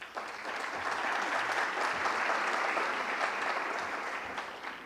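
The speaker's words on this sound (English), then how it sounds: "I think this deserves a big clap from all of you." Audience at a conference session on regional vaccine production breaking into steady applause, a dense even wash of clapping that holds for several seconds with slight tapering at the end.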